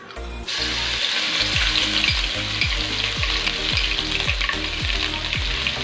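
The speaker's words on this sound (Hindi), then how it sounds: "अब ऑयल गर्म हो चुका है, अब हम इसमें अदरक और लहसुन का पेस्ट डालेंगे।" Loud, steady sizzling of ginger garlic paste frying in hot oil, with a rhythmic scraping of a spoon stirring the pan throughout.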